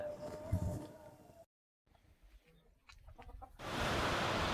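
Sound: country chickens clucking on a small farm

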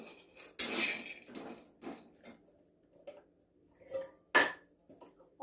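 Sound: roasting cashews and ingredients in a pan

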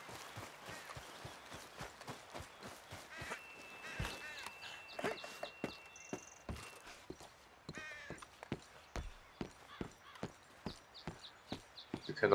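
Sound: horse hooves in video game Red Dead Redemption 2

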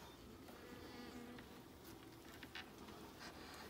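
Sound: honeybees buzzing in an opened beehive

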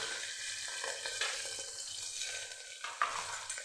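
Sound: cumin, curry leaves and onion sizzling in oil for khichdi

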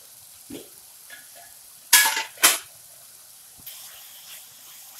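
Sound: tomatoes being stir-fried in a pan on medium flame

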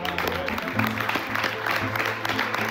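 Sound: diners applauding

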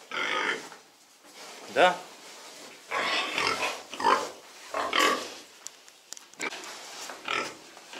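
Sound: pigs grunting, Duroc and Pietrain piglets

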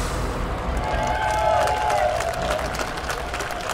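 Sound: studio audience applause

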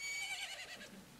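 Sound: horse neighing in video game

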